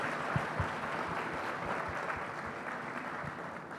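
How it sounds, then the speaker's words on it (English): A crowd claps steadily, a dense patter of many hands at moderate distance, sustained for several seconds without talk. "Could we have a round of applause, please, for all three of them here today?"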